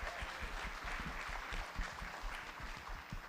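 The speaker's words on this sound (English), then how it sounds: "So I want to give a huge round of applause to our wonderful panelists." An audience claps for the panelists at the end of a panel discussion, with continuous, moderately distant applause that holds steady for a few seconds.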